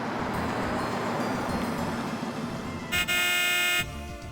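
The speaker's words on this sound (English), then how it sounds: "The station wagon stopped in front of us, and there was a short bark from the horn." A station wagon's car horn in the video game Steins;Gate 0 gives a short blip, then a sustained honk of nearly a second, over a low idling rumble.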